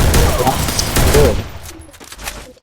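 Rapid bursts of video game gunfire crackle loud and close through the first half, then thin to scattered single shots, with a voice talking lightly underneath.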